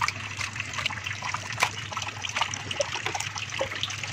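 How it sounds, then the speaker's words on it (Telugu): Goat tripe is washed by hand in a basin of water, giving close, continuous sloshing, trickling and splashing with irregular squelching bursts and no talk. "ఇట్లా ఒట్టి నీళ్ళతో కడుక్కోవచ్చు"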